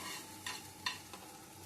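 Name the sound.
shrimp stirred in oil in a pan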